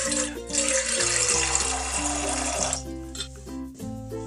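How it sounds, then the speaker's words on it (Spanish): Water pours into a cooking pot for a chicken and mushroom dish, a bright splashing stream over a background of steady musical tones, easing off partway through; no one speaks. "En una olla o recipiente, vertimos dos pocillos de agua."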